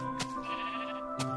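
A sheep in Minecraft bleats once in a steady, buzzy tone, framed by two short clicks. The sound is close and clear, with no talk over it.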